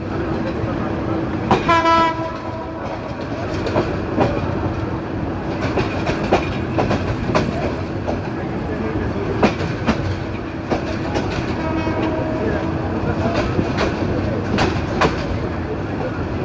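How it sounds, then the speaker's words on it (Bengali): Mohanagar Express, hauled by a 3000-series Hyundai locomotive, pulls out of Airport railway station with a loud rolling rumble and clattering wheels, a horn sounding briefly near the start, continuous and close throughout. "মহানগর এক্সপ্রেস ট্রেনটি বিমানবন্দর রেল স্টেশন ছেড়ে যাচ্ছে 10টা 2 মিনিটে"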